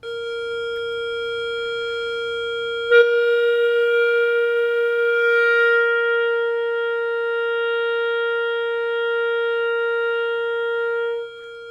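A clarinet holds one steady note against a second matching tone, alone and fairly loud; slow beating between the two pitches fades as they settle into tune, ending in a smooth unison.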